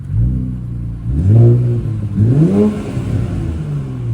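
An Infiniti Q60 Red Sport, untuned and with a slight burble, revs in two quick rising pulls over a deep idle, loud and close, with no talk.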